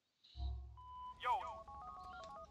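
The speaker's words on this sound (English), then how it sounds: "Bruce's post-mission phone call." A phone in Grand Theft Auto IV rings with a short electronic melodic tone, heard fairly quietly after a low thud, with faint voices underneath.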